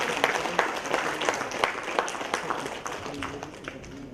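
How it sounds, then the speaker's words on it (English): Conference audience at a sedimentology convention at Annamalai University giving a round of applause, a fairly close, steady patter of many hands that fades slightly toward the end. "I want to give her a big applause."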